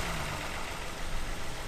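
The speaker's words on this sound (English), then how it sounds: "Hang on, it just sounds like an engine." A Kia Stinger twin-turbo engine idles in a steady, close rumble that holds without a break and without voices.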